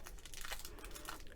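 A block of craft clay being unwrapped: soft, close crinkling and rustling of the wrapper over a brief moment, quiet and with no voice.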